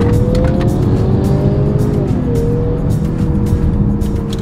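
A Mercedes-Benz GLC300 mild hybrid in sport mode with the gearbox in manual, pulling hard in second gear from about 40 km/h, its engine note rising steadily and loud and close, with tyre and road roar beneath and no talk.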